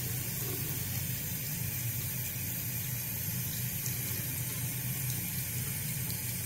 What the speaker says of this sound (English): I'm gonna rinse these out.